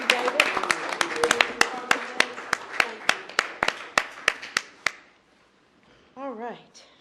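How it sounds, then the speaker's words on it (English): A small meeting audience claps for staff with sharp, separate, uneven claps that trail off after about five seconds, followed by a brief moment of a voice speaking. "I'd like to myself give a round of applause to my staff."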